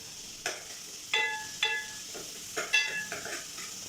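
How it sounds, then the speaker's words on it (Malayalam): Onions sautéing with salt in a pan, each stir bringing a sharp metallic scrape and clink over a low, continuous sizzle; the stirs come in several irregular bursts close to the listener, with no talking. "അപ്പോൾ നമുക്ക് ആദ്യം സവാളയും കുറച്ച് ഉപ്പും കൂടി ഇട്ട് വഴറ്റിയെടുക്കാം"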